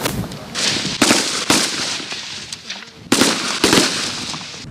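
Sharp gunshots crack out in quick bursts at an outdoor military training range on a rainy morning, loud and close, a cluster at the start and another near the end, with steady rain-like hiss between.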